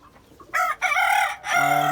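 Chickens kept on a rooftop call loudly at close range in the morning, giving two short bursts and then a longer drawn-out cackling cry.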